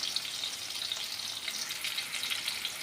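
Potato and eggplant fry in a pan with a soft, continuous sizzle and faint crackles, close but quiet, with no voices.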